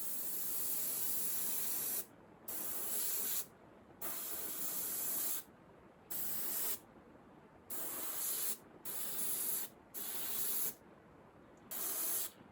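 An airbrush spraying thick engineering green paint onto the lower parts of a model locomotive, giving repeated bursts of soft hiss separated by short silences, close and fairly quiet.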